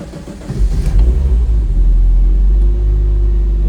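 A 1994 Jaguar XJS coupe's supercharged 4.0-litre inline-six engine hums steadily up close, a loud low rumble that builds in the first second and then holds even.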